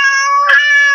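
A cat meows once as a sound effect laid over a bleeped swear word: a single clear, drawn-out meow, loud and close, with no talking underneath.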